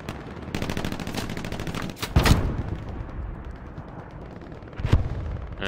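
Gunfire in a WW2 video game: dense rapid bursts and sharp loud reports, with two heavy blasts standing out around the middle and near the end, over continuous battle noise.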